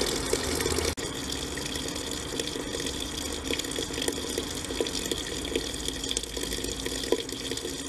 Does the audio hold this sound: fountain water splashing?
yes